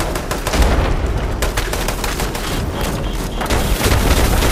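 Gunfire and grenade blasts from the video game Fallout 76 pound away in a dense, loud barrage of rapid shots and booms that continues without letup.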